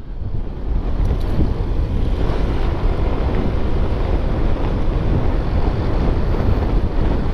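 Strong wind buffeting the microphone on a wide road leading to a beach, producing a constant loud, rough roar with no voices.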